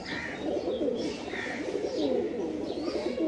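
Pigeons coo in soft, repeated throaty calls close by, several overlapping phrases against a busy background hum.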